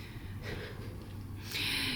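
A pet snuffles close around a camera, giving a few short, breathy snorts and sniffs near the microphone, fairly quiet with no talking.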